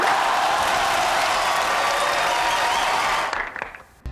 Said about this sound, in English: I like the sequence of the crowd making noise for SpongeBob